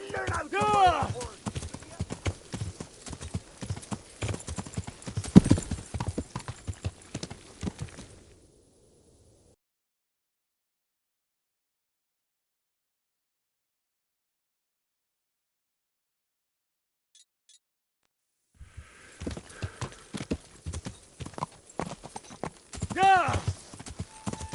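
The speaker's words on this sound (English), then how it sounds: "learn how to ride a horse" Horse hooves clip-clopping during riding in the video game Kingdom Come: Deliverance, a steady trotting patter for several seconds, then a long silence before the hoofbeats return, with faint speech-like game sounds mixed in.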